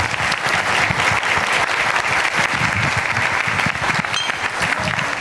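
A room full of people claps steadily and warmly for several seconds at a youth English debating championship in Busan, a sustained round of applause without pause.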